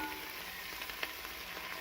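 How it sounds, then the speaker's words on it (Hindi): Onions and ginger-garlic paste frying in oil in a pot, giving a steady, faint sizzle with soft crackles and one brief pop, no voices. "अच्छी तरह से अदरक लहसुन के पेस्ट और प्याज़ों को हम भून लेंगे"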